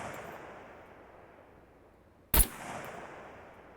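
A single sharp gunshot from a firearm in the survival game SCUM, fired once from a distance against a low steady ambient wind, with no talking.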